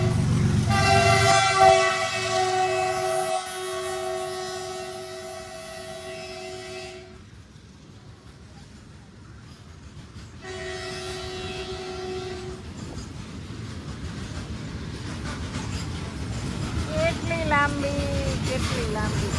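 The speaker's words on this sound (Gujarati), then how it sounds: "ક્યારે ટ્રેન આવશે?" A long train passes a level crossing, sounding repeated loud horn blasts over a rumble of wheels, then rolling on with steady clatter while people chat nearby.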